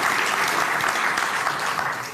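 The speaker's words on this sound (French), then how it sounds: "je préférais un applaudissement immédiat, un nouveau pour lui" A conference crowd applauds in a thick, sustained roar of clapping, loud and steady throughout and easing slightly at the end, without voices on top.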